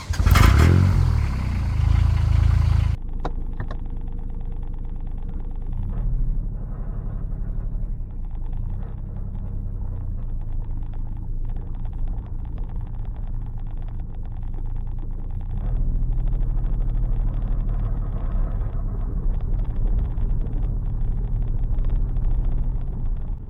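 A car with a 20 hp Kubota D722 turbo diesel engine drones steadily from inside the cabin with a low rumble, after a louder burst at the start, continuing for the whole stretch.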